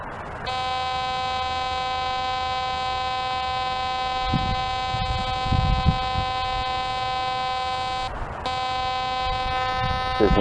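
A metal detector sounds its dime signal while hunting for coins outdoors: a loud, steady buzzing tone holds for about ten seconds, breaks briefly once, with faint handling thumps underneath.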